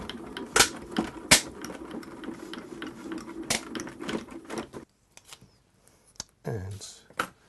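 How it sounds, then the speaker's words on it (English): A die cutting machine feeds card through its rollers with a steady mechanical grinding rumble and sharp clicks, loud and close, ending in near silence with a few small handling sounds. "just run that through my cutting machine"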